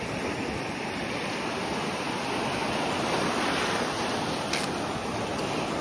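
Beach waves make a continuous soft surf wash, fairly faint and steady, with some wind mixed in. No voices are heard.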